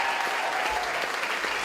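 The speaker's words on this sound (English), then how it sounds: "To the guys on the sound as well, I want to a big round of applause for Brian McDevitt and the band." Steady applause from an audience at a school music show, thanking the sound crew and band, continuous dense clapping with no gaps.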